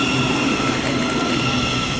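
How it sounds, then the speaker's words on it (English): Thameslink Class 700 electric train, unit 700121, at St Albans City station on a busy Bedford to Brighton service, giving a steady, loud, broadband rumble with a sustained electric whine that holds level throughout. "Thameslink service from Bedford to Brighton. This one is 700 121."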